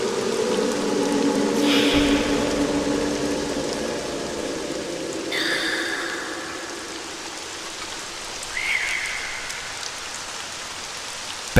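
Steady rain falls through the night with a dense, continuous hiss that eases slightly over time, while a few brief high tonal sounds and a low thump break through the wash.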